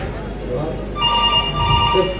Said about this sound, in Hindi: फोन आ गया।